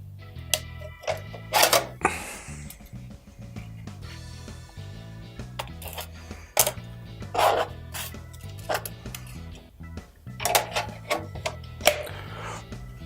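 Scraping and clattering as a rigid plastic 3D print is pried off an Original Prusa i3 MK3 printer bed, with several loud bursts of rasping amid quieter handling noises.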